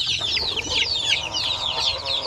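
Basilan and Zampen native chicks, about a month old, chirping and clucking steadily in a busy overlapping chorus, close and moderately loud, with no talking.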